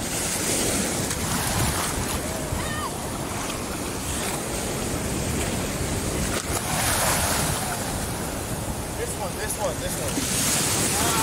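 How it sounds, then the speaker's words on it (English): Beach surf stirred up by a passing boat's wake on the Fourth of July: waves wash and break continuously nearby, mixed with heavy wind buffeting the microphone. "The waves are pretty decent because that boat passed by over there."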